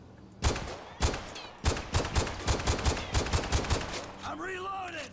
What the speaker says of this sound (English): I'm going to shoot off the combat pistol and check this out